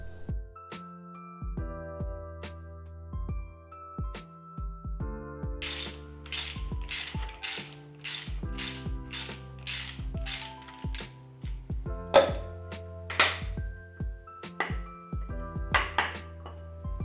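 Loud metallic ratcheting and clanking as a Toyota engine's oil pump is forced out by hand during a teardown, without a gear puller. Repeated sharp scraping bursts ride over steady ringing tones, with a hard clank near the end.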